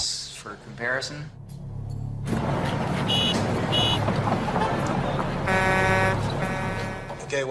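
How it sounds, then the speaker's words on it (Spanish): Recorded traffic noise played back for comparison with Stonehenge sounds, a steady broadband road roar with engine rumble and passing vehicles, plus tonal beeping or horn-like bursts partway through. "Ahora el ruido de tráfico para compararlo."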